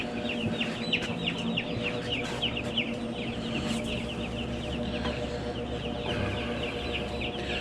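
A barn holding about 12,750 chickens on a farm in Bothwell, filled with continuous overlapping clucking and calls, a steady dense flock chorus with no talk.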